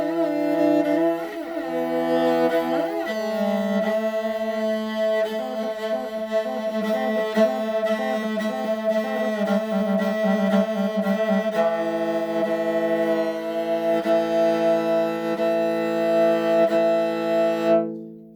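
A semi-professional morin khuur, the Mongolian horsehead fiddle, bowed in long sustained notes with a rich, buzzing tone and slight pitch slides, played alone at close range.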